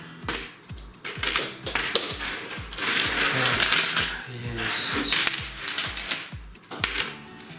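Canadian coins, some of them collectible pieces, clink and clatter repeatedly as they are sorted by hand, in a quick, irregular, close-up rhythm, with a brief spoken word in between.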